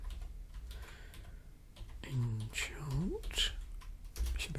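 Soft, quick keystrokes on a computer keyboard while searching Magic: The Gathering cards, patchy clicking with a voice speaking over part of it.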